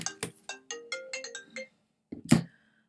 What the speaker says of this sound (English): sorry about that, my phone was ringing